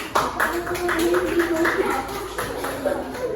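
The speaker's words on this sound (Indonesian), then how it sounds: "Tepuk tangan" Pupils in a primary school classroom clapping their hands, a dense run of overlapping claps at steady loudness for a few seconds with voices mixed in.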